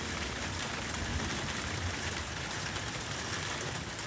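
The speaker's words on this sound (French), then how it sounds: "la pluie, des fois, elle redouble d'intensité, voilà, comme là." Heavy thunderstorm rain in Corrèze pours down in a steady, dense roar that stays close and loud throughout, with no pauses or voices.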